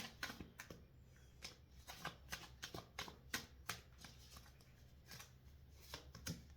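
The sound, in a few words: shuffling oracle cards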